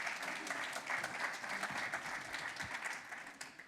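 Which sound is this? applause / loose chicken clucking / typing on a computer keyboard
applause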